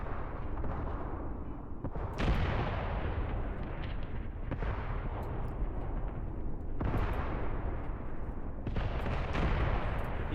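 Howitzers and infantry guns fire in Graviteam Tactics, heard as loud, heavy booms about every two to three seconds. Each boom rolls into a long, rumbling echo over constant low battlefield noise.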